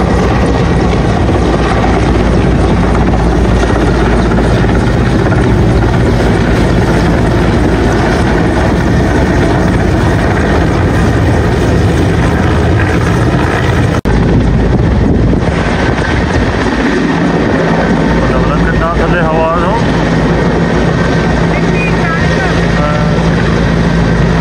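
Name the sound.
helicopter flying and landing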